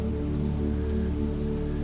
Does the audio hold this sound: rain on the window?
yes